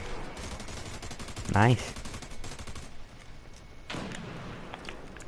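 Helicopter gunfire in an army video game, with one loud, punchy burst early and a softer second burst later, over constant game noise while a voice speaks briefly.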